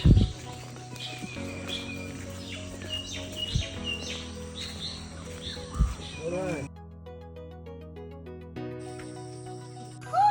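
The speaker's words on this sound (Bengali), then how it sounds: "সকালবেলা পাখির আওয়াজ।" Several birds chirp and sing in the morning in a village, overlapping calls, bright and fairly close, with a sustained musical tone running underneath.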